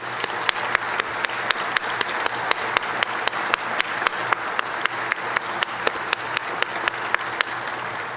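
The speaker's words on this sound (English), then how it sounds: "Please join me in giving Chief Buffington a hand of applause." Sustained audience applause at a city's State of the City address, steady dense clapping from a large crowd lasting throughout with sharp individual claps standing out, no talking over it.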